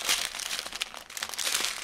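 Paper packaging is folded and creased by hand, giving close, continuous crinkling and rustling with brief softer pauses.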